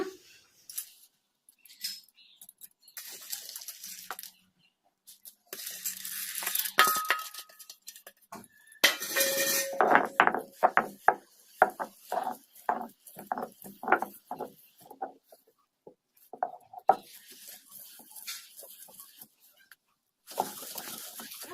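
Black-eyed pea dal being ground by hand in a stone mortar makes irregular scraping, knocking strokes, dense in places and sparse in others, with short quiet gaps between bursts.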